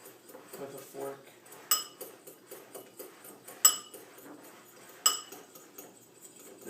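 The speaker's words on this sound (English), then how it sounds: "I'm going to just kind of mix this up a little bit with a fork." A fork stirs cinnamon through a bowl, giving soft scraping with a few sharp metal-on-bowl clinks spaced irregularly, close and moderately quiet.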